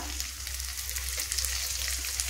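Ginger garlic paste sizzles and spatters in a hot pan, a steady crackling fry with occasional louder pops.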